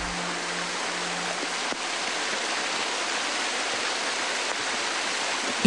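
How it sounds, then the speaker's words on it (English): Shiraito no Taki waterfall pouring from a cliff face at more than 100,000 tons of water a day, a steady, dense, close roar of rushing water that holds constant throughout with no voices. "Water gushing forth relentlessly from the cliff."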